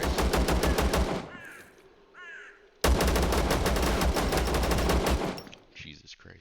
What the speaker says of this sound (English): I saw another shot come from below